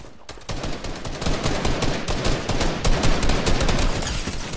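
Sustained automatic gunfire in Fortnite, loud and continuous with rapid overlapping shots after a brief quiet start, filling the whole stretch without pause.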